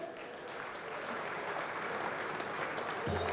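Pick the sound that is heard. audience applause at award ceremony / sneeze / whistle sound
audience applause at award ceremony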